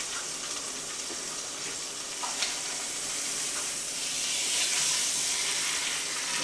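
Brick-grilled chicken sizzles in a hot pan just after being flipped, a soft steady hiss that swells slightly toward the end, with no speech over it.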